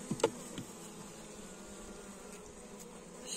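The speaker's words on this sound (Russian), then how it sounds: "Слышу, пчелка гудит тут." Quiet, steady buzzing of honeybees in a hive during a late-winter inspection, with a few brief louder buzzes near the start before settling into a faint continuous hum.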